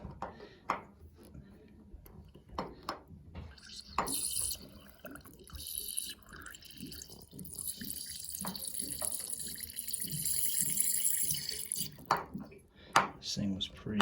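Water gushes and splashes out of an AO Smith hot water heater tank being drained through an unhooked hose, a loud steady rush with a few knocks and clatters, and someone speaks briefly.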